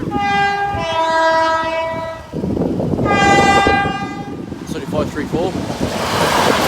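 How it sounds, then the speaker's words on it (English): A diverted Voyager train sounds two long, loud horn blasts as it rumbles closer and rushes past Boultham Level Crossing, rattling and roaring through the rest. "Train approaching."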